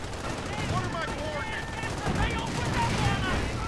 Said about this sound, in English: Rifle grenades coming in